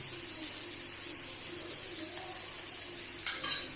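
Fish frying in oil in a pan gives a faint, steady sizzling hiss throughout, with a brief clatter near the end.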